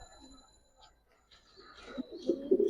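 Pigeons kept for sale, including military, silver and cobra breeds, give soft, low cooing calls that swell near the end after a quiet start with faint background murmur.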